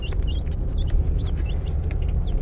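Ameraucana chickens softly clucking and chirping close by, several short calls scattered over a steady low rumble of background noise.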